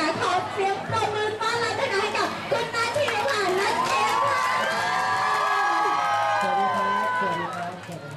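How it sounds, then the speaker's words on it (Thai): A crowd of fans cheers and shouts at a live Thai entertainment event featuring a well-known singer, a loud continuous mass of voices with whoops and high calls, giving way to talk near the end. "ขอเสียงปรบมือ"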